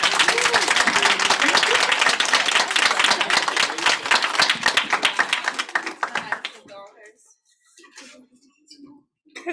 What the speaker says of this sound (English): And please give a round of applause.